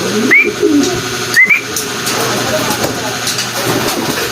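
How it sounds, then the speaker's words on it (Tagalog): A bird calls twice with short rising notes over steady outdoor background noise and a low engine-like hum, with voices talking nearby. "ayan na yung ibon natin oh"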